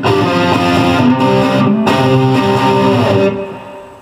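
Electric guitar played through a Fender Mustang III amp on a metal gain setting with tape delay and a '63 Fender plate reverb gives loud, distorted sustained chords. They ring together, then cut off and leave a reverb tail, with no talk.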